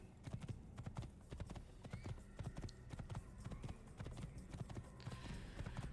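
Hooves of a black horse clip-clop steadily in the Assassin's Creed video game. The quick, even rhythm of hoof strikes is close and continuous throughout, with soft ambient game sound underneath.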